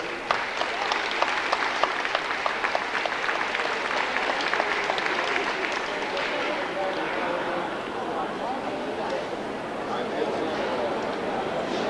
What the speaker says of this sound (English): Please give these people a round of applause because they have worked hard for you.